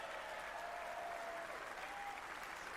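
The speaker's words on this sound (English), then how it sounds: "the crowd are cheering him on" A snooker crowd at a Masters final applauds steadily, a dense wash of clapping that holds at an even level throughout, with faint tones underneath.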